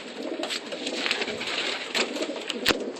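Super Kirk pigeons cooing in a loft, soft repeated coos close by with a few sharper clicks and flutters mixed in over a busy background.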